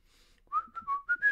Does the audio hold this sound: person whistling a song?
yes